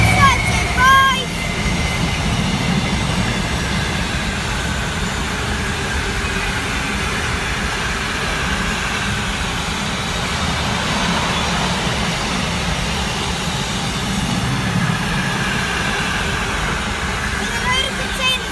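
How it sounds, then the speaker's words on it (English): A Freightliner Class 66 freight train loaded with containers passes through Tamworth station. It is a continuous low rumble and rolling clatter that holds steady throughout, with a voice talking over it early on. "Passing through now is a freight train."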